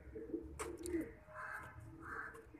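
Soft, low pigeon coos close by, a few rounded murmuring calls with faint rustling in between.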